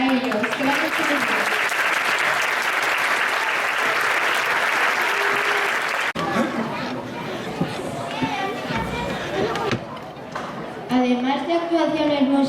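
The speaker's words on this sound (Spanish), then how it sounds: "Un fuerte aplauso para ellos." Crowd at a school festival in Villaviciosa gives loud, sustained applause for primary school children leaving the stage, with chatter and children's voices mixing in as the clapping thins out.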